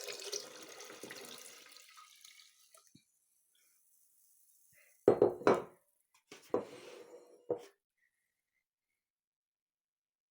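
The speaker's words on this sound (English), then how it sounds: "put me in about 10 cups of vinegar in here" Vinegar pouring into a container in a short gushing stream that fades out, then a few separate splashes and knocks after a quiet pause.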